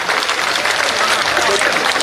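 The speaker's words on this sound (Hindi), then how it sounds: "जोरदार ताली बजा के एक बार धन्यवाद ज्ञापित कर दें" A crowd at a BJP political rally in Semariya, Rewa claps steadily, a dense continuous patter of many hands, loud and close throughout.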